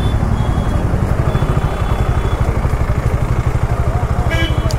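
A motorcycle engine runs steadily with a fast, even pulse in a packed, crowded street, loud and close, with faint voices mixed in behind it.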